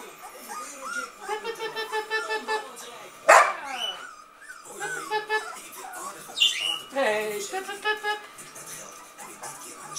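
Puppies yip and bark in quick high-pitched bursts close by, with a squeal and some whimpering mixed in, while a person calls to them.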